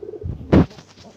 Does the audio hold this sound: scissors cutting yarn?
no